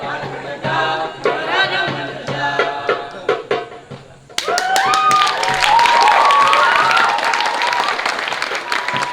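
Applause from an audience after a stage performance, loud dense clapping that surges in abruptly partway through, following an earlier stretch of voices and softer sounds.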